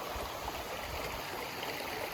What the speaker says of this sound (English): I got this really nice stream.